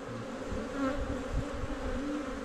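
Honeybees buzz steadily at a freshly opened hive of a teaching apiary, a dense, continuous drone close by with slight swells in loudness and no talking.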